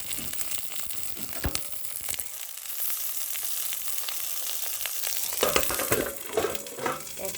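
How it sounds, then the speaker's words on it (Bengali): Prawn paturi fries on a low flame under a lid, giving a steady close sizzle and crackle throughout, growing busier and more popping near the end with no voices. "একদম লো ফ্লেমে ভাজতে হবে আর ঢাকনা দিয়ে দিতে হবে।"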